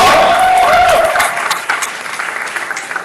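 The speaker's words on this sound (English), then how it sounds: "Let's give Jalen a round of applause." An audience at an online global graduation ceremony claps for a graduate, a loud dense wash of applause that starts strong and gradually thins and fades over a few seconds.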